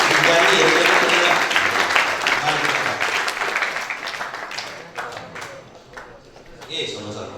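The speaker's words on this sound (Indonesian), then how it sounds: "Tepuk tangan untuk Ustaz Ibani" Applause for a religious teacher at a Ramadan pesantren school event: a dense burst of clapping from an audience that starts loud and gradually thins and fades over several seconds, with a brief swell again near the end.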